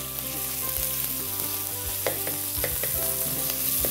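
Close, continuous sizzle of onions frying in a pan for a lamb and cabbage dish, with a steady hiss broken by a few soft clinks and scrapes.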